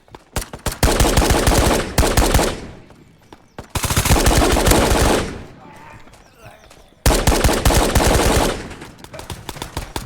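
Rapid automatic gunfire in the shooter game Ghosts of Tabor, loud close bursts in three long volleys separated by short quieter gaps.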